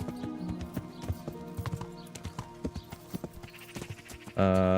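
Horse hooves clop at a steady walking rhythm on the ground in Kingdom Come: Deliverance, moderately close over soft ambient music, cut off at the end by a sudden loud sustained tone.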